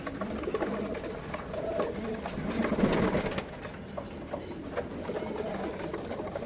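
Caged female pigeons at a Dhaka pigeon seller's loft give low, steady cooing that fills the whole stretch with no talk, modest in level, swelling slightly midway.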